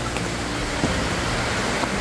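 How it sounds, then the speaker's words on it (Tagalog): Steady rain pours down in the Philippines, a dense, even hiss of drops with no pauses or voices, close and continuous throughout. "raining in the Philippines."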